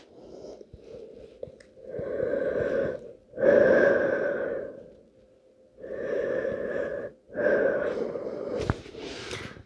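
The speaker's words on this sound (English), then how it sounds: "We're going to take a few deep breaths here." Slow, deep breaths in a yoga child's pose, long loud inhales and exhales alternating with short pauses, close and breathy, alone.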